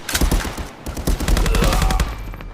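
Rifle fire in a first-person shooter game played against bots: a rapid burst of sharp, loud gunshots in quick succession, close and punchy, with no talk over them.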